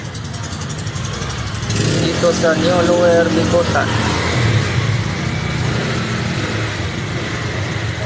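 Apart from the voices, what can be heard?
road traffic with car engines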